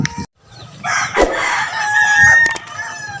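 Loud, close rooster crow at a backyard chicken coop, one long drawn-out call filling most of the moment, with short clucks and rustling around it.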